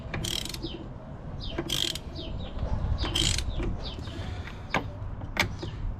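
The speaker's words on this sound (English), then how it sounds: "So I think the easiest way is to use a socket" A socket ratchet clicks in short repeated bursts while tightening a 6AN PTFE fuel line fitting on a budget AWD build, close and crisp with brief pauses between strokes.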